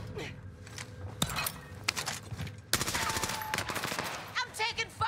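Gunfire in the Warzone video game: a sharp shot followed by sustained rapid automatic fire, loud and close, with scattered bursts toward the end and a voice speaking briefly over it.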